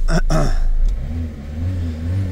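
A Renault Scenic 2 with a 1.5 dCi diesel engine, idling after a start, then revved: a steady low engine drone whose pitch rises toward the end, with a brief broadband burst near the start.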